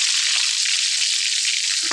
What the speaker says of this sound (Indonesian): goreng dulu guys ya